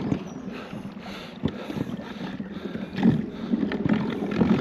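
A boat's outboard motor drones steadily throughout, with a rough, rumbling hum and light wind buffeting the microphone, fairly loud and close.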